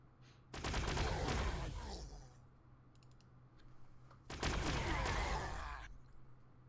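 Two loud bursts of rapid gunfire from the strategy game Warhammer 40,000: Sanctus Reach, each lasting about a second and a half and then fading, with a short quiet gap between them.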